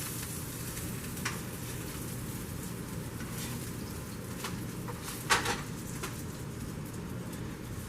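Flipped cheese frying in a pan gives a steady, soft sizzle with light crackling pops and one sharper spatter midway, close and quiet with no talking.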